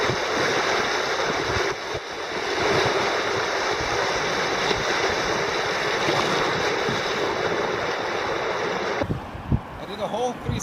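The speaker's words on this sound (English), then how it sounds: "Kayaking Salt River." River rapids on the Upper Salt River during a kayak run, a loud steady rush of whitewater filling the scene close by, dropping away near the end with a few splashes.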